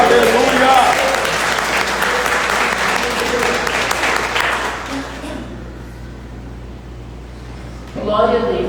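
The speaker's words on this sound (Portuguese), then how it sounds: "Então a igreja aplaude o Senhor." A church congregation applauds, with dense, steady clapping from many hands filling the room before it fades, while a voice speaks over the applause throughout.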